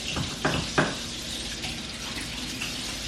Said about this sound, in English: I'm just gonna wash my hands real quick